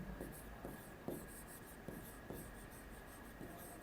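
Pen or marker writing on a board during an English grammar lecture, faint regular scratching strokes with soft taps at steady intervals, quiet and close, no speech over it.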